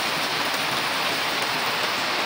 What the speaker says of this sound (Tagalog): hindi na tayo makakadilig dahil nga malakas ang ulan